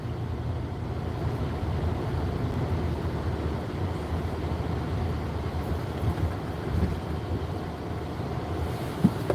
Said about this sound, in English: We got cloudy day today and very windy today